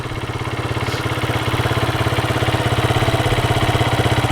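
A motorcycle engine runs steadily during a beginner riding lesson, a loud, close, pulsing low throb that holds an even idle-like rhythm throughout, with no talk over it.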